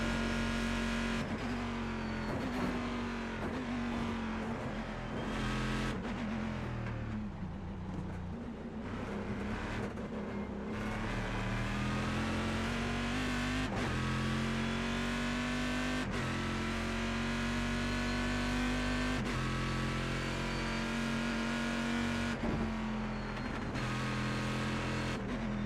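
Corvette GT1 race car engine in the iRacing sim, a loud, steady high-revving drone with repeated gear changes and rising pulls, continuous throughout with no talking over it.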